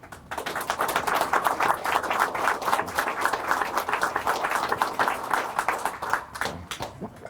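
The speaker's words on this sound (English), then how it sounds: "Big round of applause, everybody." Studio audience on a talk show giving a round of applause, a brisk, fairly small crowd of distinct hand claps with a lively uneven rhythm, steady throughout and tapering at the very end.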